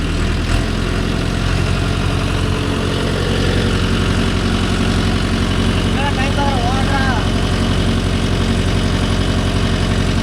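A Mahindra Yuvo Tech Plus 585 DI 4WD tractor pulling a 5-tine cultivator, its diesel engine droning loud and steady throughout at close range, with a faint whistle partway through.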